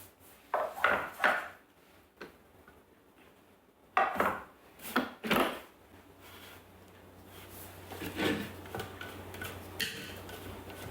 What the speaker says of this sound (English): Scrape down the sides of the bowl.